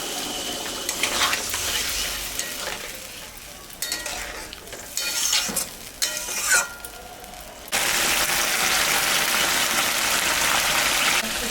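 Spices frying with raw tomato, a green chili and a splash of water in a pan while cooking oil-fried koi fish. Steady close sizzling with intermittent stirring scrapes, rising to a louder, continuous hiss in the final seconds.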